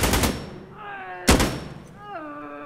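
Gunfire in the tactical shooter Insurgency Sandstorm: a quick pair of close, sharp shots, then another loud crack after a pause, with ringing tonal tails between them and a voice speaking faintly.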